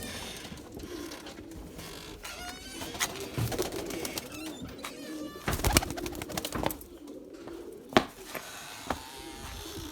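Pigeons coo steadily in a loft, with soft wing shuffles and a few sharp clicks and knocks rising over the constant murmur of cooing.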